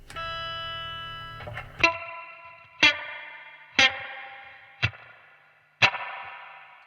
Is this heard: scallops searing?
no